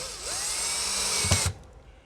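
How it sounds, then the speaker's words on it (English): Power drill pre-drilling screw holes for mounting window blinds, a steady high whine held for about a second and a half before it stops abruptly with a few low knocks. "you're just going to pre-drill the holes with a drill bit"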